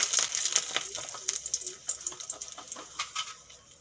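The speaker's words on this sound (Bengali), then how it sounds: "তেল ভালো করে গরম হয়ে গেছে ফোড়নে দিয়ে দেবো তেজপাতা আর শুকনো লঙ্কা" Bay leaves and dried red chillies crackle and sizzle in hot mustard oil, a dense run of sharp pops and spits close up, fairly steady across the few seconds.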